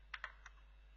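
A few faint, quick keystrokes on a computer keyboard, close and isolated against a quiet background.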